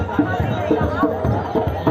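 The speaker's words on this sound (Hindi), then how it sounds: "काफ़ी ज़्यादा भीड़ है" A large festival crowd at the ISKCON temple in Dwarka during Janmashtami, a dense babble of many voices close around, with no single voice standing out.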